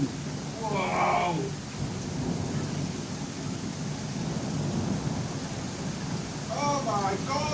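Thunderstorm with heavy rain in Santa Ponsa: a steady roar of rainfall and low rumbling fills the whole clip, with people exclaiming briefly near the start and again at the end.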